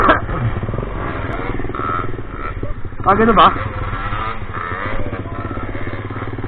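A motorcycle engine hums steadily beneath close conversation in Tagalog while riding, with a brief louder surge partway through.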